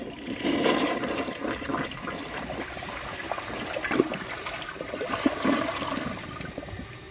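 A 1998 Kohler Wellworth Ingenium toilet flushes away a grocery bag, a steady close rush and gurgle of water running the full seven seconds with small splashes and trickles, no voices.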